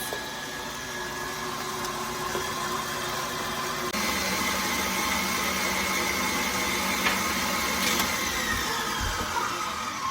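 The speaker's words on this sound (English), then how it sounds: "So we just want to whisk those till the stiff peaks form" Electric mixer whisking a healthy homemade marshmallow mixture toward stiff peaks, a steady continuous motor whir with a slight shift in pitch partway through, close and alone without talk.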